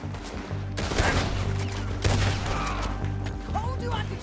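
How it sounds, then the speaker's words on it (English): Gunfire in the Red Dead Redemption 2 game, with two sharp loud shot bursts standing out over a busy background of game sound and music, followed by quieter ricochet-like whistles. "Told you I could shoot a gun"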